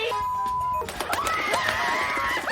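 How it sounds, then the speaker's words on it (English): A baby bird loose indoors in a bathroom, giving sharp chirping calls and fluttering bursts over a continuous background of music or tones, fairly loud and close. "It's a baby bird."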